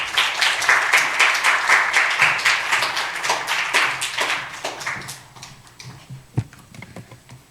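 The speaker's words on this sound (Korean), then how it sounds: "박수로 맞겠습니다." Congregation applause welcoming a missionary speaker to the pulpit in a church; steady clapping for about five seconds that fades to a few scattered claps and quiet room noise.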